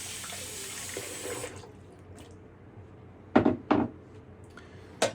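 Tap water runs into a sink for about a second and a half as fingers are rinsed clean, then stops, followed by a few quiet splashes and handling knocks nearby.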